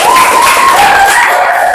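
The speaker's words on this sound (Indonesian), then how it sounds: "Buat Cinta, tepuk tangan." Children clapping together in a classroom, a dense, loud burst of applause throughout with some high voices mixed in.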